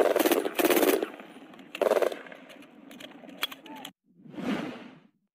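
MG3 machine gun firing, several short loud automatic bursts separated by quieter stretches and a sharp crack or two, ending with one more burst after a brief silence.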